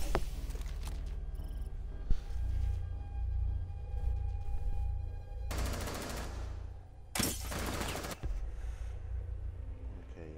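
Rainbow Six Siege gunfire: bursts of rapid game shots, with two loud, dense volleys in the middle over a steady low rumble and background game noise.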